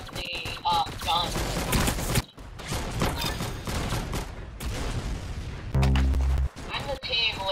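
Gunfire in a Roblox gun game, with loud bursts of rapid shots and booming hits in quick clusters, cut by brief gaps and overlapping a player's voice.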